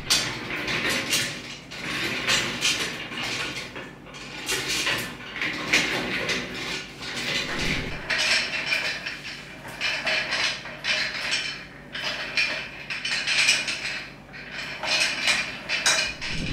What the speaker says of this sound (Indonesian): kalau misalnya kita kursinya gerakin ke sana kemari, itu ternyata nggak berisik